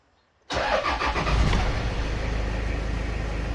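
Stock exhaust on a Toyota KZJ95 Land Cruiser Prado diesel: silence, then the engine cranks and catches at about half a second, settling into a steady, loud, rumbling idle close by.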